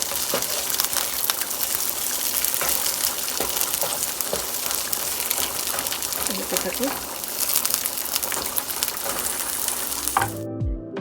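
Onions frying in olive oil make a loud, continuous close hiss and crackle that cuts off abruptly near the end, with a voice speaking over it.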